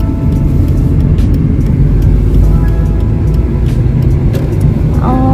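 Car interior while driving off after a work shift in Sweden, with a steady, loud road and engine rumble filling the whole stretch and a faint chime near the end.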